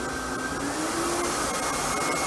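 A Royal Classic Power Team vacuum cleaner motor runs loud and close, its steady whining roar rising in pitch as it spins up to full speed.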